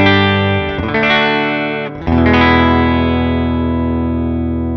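Electric guitar on the clean channel of a Fender Supersonic amp with flat EQ and no boost: two strummed chords ring out full and sustained, the second left to fade slowly, with no talking.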